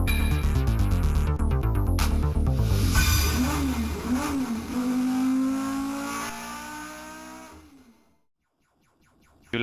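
Race car engine revving in the Amiga racing game Nigel Mansell, loud synthesized engine whine rising and falling in pitch over several seconds before cutting out to near silence.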